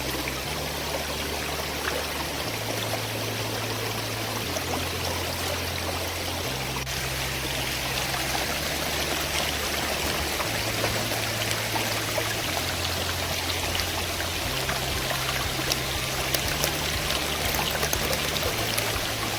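A waterfall stream on a Korigad trek pours and trickles steadily, a close, continuous splashing rush lasting throughout, with a low stepped drone sitting underneath.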